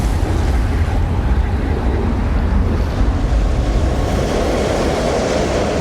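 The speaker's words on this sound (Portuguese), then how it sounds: "Ondas e marés." Ocean waves surge in a constant, loud, rushing roar, mixed with wind buffeting the microphone and no voices.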